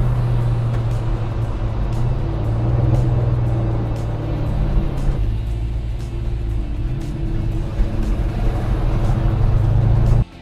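An LS-engined car with a Go Shift transmission works up through its gears, the steady engine drone shifting pitch at each change, close and loud, with no talk over it.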